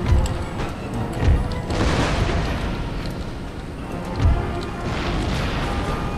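Artillery fire in an Empire: Total War online battle, America against France: dense rumbling battle noise with deep booms near 0.3 s, 1.3 s and 4.3 s over a continuous roar of distant gunfire.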